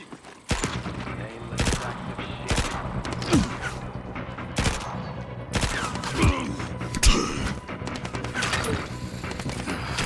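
Video game gunfire, a dense run of loud, sharp shots in rapid irregular bursts across the whole stretch, with mechanical clatter and impacts mixed in.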